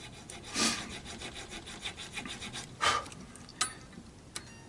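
Slots being cut into a left-handed guitar nut on a Les Paul copy, with short rasping filing strokes at an uneven pace, close and quiet, and a couple of sharp ticks near the end.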